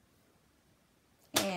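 Cardstock is sliced with a single quick swipe of a paper trimmer near the end, a sharp, close rasp after a long near-silent stretch.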